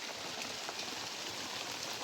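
Steady rain patters on a surface, a dense even hiss of drops with no pauses, close and moderately loud.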